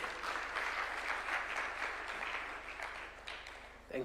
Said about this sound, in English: A round of applause for Mzee.